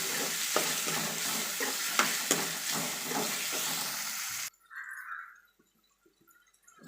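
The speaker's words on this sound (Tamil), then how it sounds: "இந்த தக்காளி நல்லா மசிஞ்சு இந்த வெங்காயத்தோடு நல்லா சேர்ந்து வரணும் அந்த அளவுக்கு நல்லா வதக்கிக்கலாம்" Tomato and onion sautéing in a pan for a spicy crab pepper fry, a loud dense sizzle with rhythmic stirring scrapes that cuts off abruptly, leaving near silence with a faint tone and small clicks.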